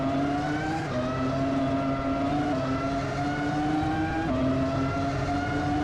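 A Formula 1 race car engine in a Roblox racing game, one steady high-pitched whine held loud and close throughout, with short pitch dips as it shifts down approaching a hairpin.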